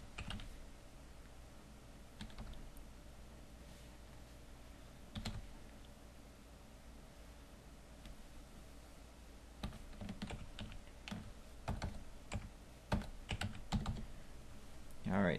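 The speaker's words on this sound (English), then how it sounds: "so just go ahead and start typing." Bursts of keyboard typing, quick irregular key clicks close by, sparse at first and then denser toward the end.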